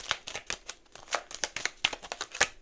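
Tarot cards being shuffled by hand up close, a rapid irregular run of crisp riffling and slapping bursts with no one speaking.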